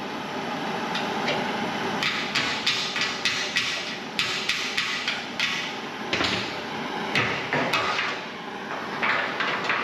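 A hot rivet is hammered into a cracked, twisted 1932 Ford frame, sharp metallic blows falling in quick bursts of several strikes with short pauses between, close and loud over a faint background hiss.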